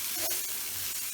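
Mushrooms seasoned with kosher salt sizzle in a hot pan, a steady close hiss lasting about a second with no talk over it.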